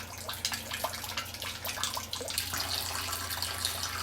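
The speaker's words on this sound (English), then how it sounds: "The sap is definitely flowing today." Maple sap pours and splashes into a collection barrel outdoors, a steady close trickle with bubbling water noise throughout.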